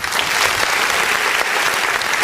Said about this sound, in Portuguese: Vamos aplaudir o nome do Senhor.